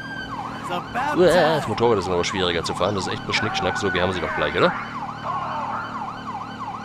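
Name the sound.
police motorcycle siren in the video game GTA 5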